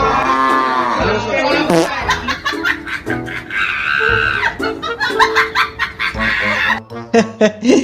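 A group of friends imitate cows and goats, trading loud, close moos, bleats and clucking calls in quick overlapping bursts, with laughter and chatter mixed in throughout.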